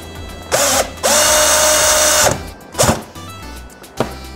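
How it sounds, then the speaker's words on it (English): A power driver runs a screw into a custom lightsaber hilt part, giving a short whir, then a longer steady drilling whine for over a second, followed by a few brief ratcheting bursts, close and loud with no talking. "So now, I can screw this in."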